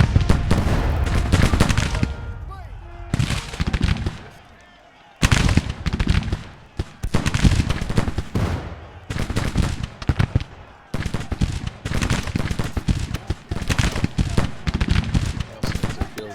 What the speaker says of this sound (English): these men will stand up so they can continue to shoot